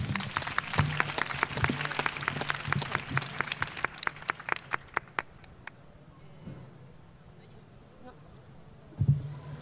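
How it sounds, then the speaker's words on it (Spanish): An audience at a feminist talk on bodies, work and politics applauds with scattered, lively claps for several seconds, then the clapping dies away into a quiet room with an occasional soft thump. "Un aplauso otra vez, que no le falta."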